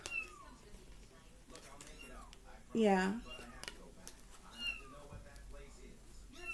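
Kittens meowing indoors, several short, high mews scattered through, with one louder, longer cry near the middle, while a person talks over them.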